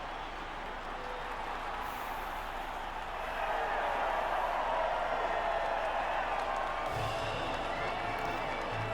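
A video game crowd cheers and applauds at an F1 2019 podium, a broad steady roar that swells partway through and holds, with a commentator's voice over it.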